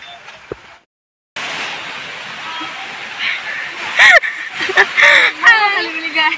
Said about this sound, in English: to Tegeria Waterfall.